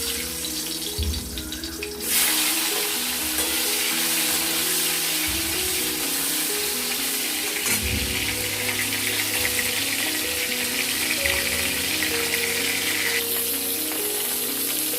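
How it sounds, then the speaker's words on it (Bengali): Heads rubbed with salt and turmeric fry in hot oil until reddish, giving a loud, steady sizzle and crackle that continues without a break and with no voices. "এবার মাথাগুলোকে আমরা একটু লাল লাল করে ভেজে নেব।"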